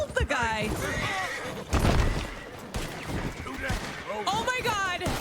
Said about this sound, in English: I scared the horse and it killed the guy.